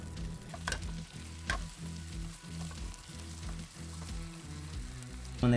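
Food frying in a pan and stirred now and then, a steady close sizzle with scraping stirs and a few soft knocks, and no talking.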